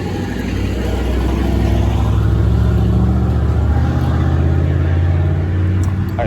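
A car with a loud aftermarket muffler rumbles past nearby, a steady deep droning roar that holds strong for several seconds, with no voices.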